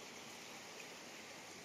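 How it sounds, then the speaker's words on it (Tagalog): A steady rushing of flowing water, like a stream or river, fills the clip evenly and faintly, with no voices. "Ang maririnig nyo po dito is ingay ng ilog."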